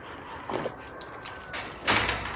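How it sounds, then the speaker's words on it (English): A horse kicks inside a neighbour's stable in rural Sicily, giving two dull, heavy thumps about a second and a half apart, set back at a moderate distance against a quiet background. "Can you hear him kicking?"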